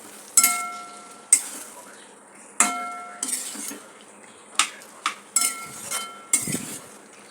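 A spoon clanks and scrapes against a metal pan as ivy gourd is mixed with masala and salt, in sharp separate knocks and clinks every second or so over a faint frying hiss.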